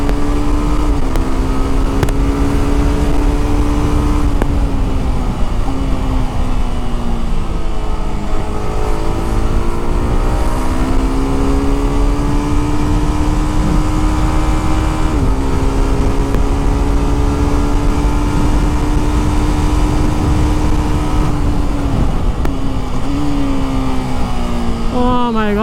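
A 2025 TVS Apache RR 310 motorcycle engine droning loud and continuous while riding, its pitch rising and falling with throttle and gear changes.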